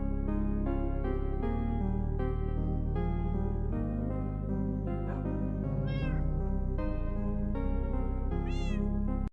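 Several cats meow in repeated, drawn-out cries over a steady backing tone, with a few rising squeals near the end.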